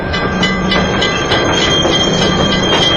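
A train on the rails rolls along with a continuous rumbling clatter and rhythmic wheel clicks, loud and close, with no voices.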